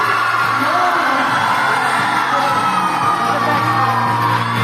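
A school hall crowd at a medal and awards ceremony cheers and whoops for prize winners heading to the stage, a dense, loud, continuous roar of shouting children and applause with no break.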